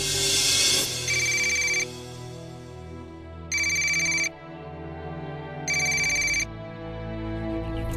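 A telephone rings with an incoming call, sounding in two-part electronic bursts that repeat at a steady rhythm over a low background hum, loud and close, with no talking.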